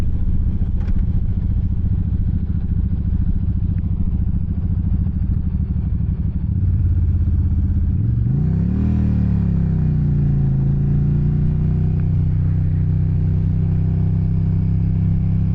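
Motorcycle ridden through heavy traffic, a loud continuous engine drone with wind rumble, dipping then rising in pitch midway as the rider shifts and accelerates.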